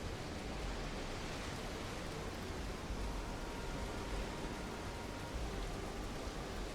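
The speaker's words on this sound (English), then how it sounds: "We're back out in the rain." Steady, even rain falls outdoors in the space game Starfield, a soft continuous hiss that holds at a constant level from start to finish with no voices over it.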